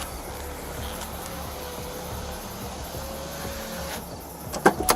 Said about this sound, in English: I'm gonna roll my window up real quick.